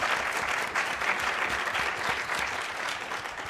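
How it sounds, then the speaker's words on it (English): Audience at an academic conference panel applauding steadily, a dense even wash of clapping from a crowd that holds for the whole stretch with no talk over it. "let's have a round of applause for this panel."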